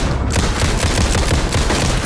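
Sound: rapid gunfire from a video game (Alan Wake 2)

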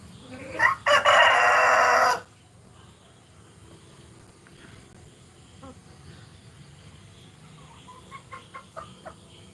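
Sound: chickens, rooster crowing

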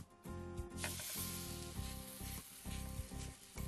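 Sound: akki roti sizzling on a hot tawa

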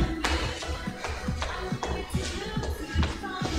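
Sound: squeaking sneakers during jogging exercise

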